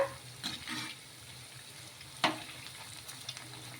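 Jowar flour bondas deep frying in hot oil, a soft crackling sizzle with a few stirring scrapes and one sharp clatter, fairly quiet and close.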